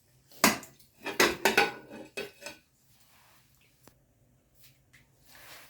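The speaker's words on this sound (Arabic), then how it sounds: "غادي ناخذوا الكوكوت ديالنا، نديرو فيها اللحم ديالنا" Meat goes into a pressure cooker pot for Marrakech-style tanjia, with several clanking metal-on-pot knocks and scrapes clustered near the start, then quieter sparse taps.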